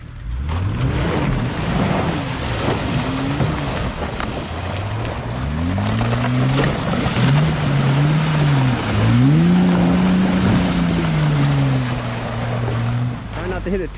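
Jeep Gladiator JT Rubicon 4x4 driving through ice off-road in January, a loud rumbling engine whose pitch rises and falls with throttle over crunching and splashing, with voices talking underneath.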